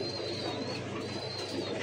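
A pigeon kept on a breeding farm coos softly in a low repeated murmur against a faint, steady background.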